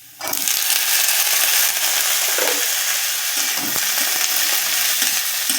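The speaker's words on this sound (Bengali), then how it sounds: "এবার আমি কেটে রাখা চিচিঙ্গেগুলো দিয়ে দেব।" Chopped ridge gourd and onion fry loudly in a hot pan, a dense, close sizzle that bursts in sharply and stays strong throughout.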